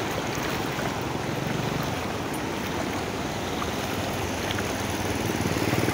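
Floodwater rushes steadily over a submerged road crossing in Ceará, Brazil, a constant broadband wash of flowing water, fairly close and unbroken, with no talk.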